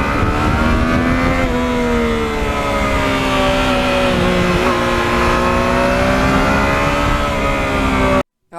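Yamaha MT-09 motorcycle engine running loud and close, a steady, sustained high-revving drone with shifting pitch that cuts off abruptly at the end.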